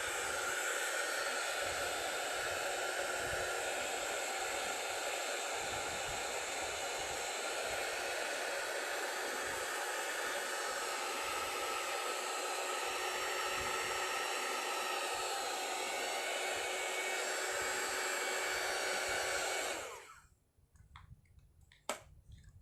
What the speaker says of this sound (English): Let me put up some heat gun to dry this portion.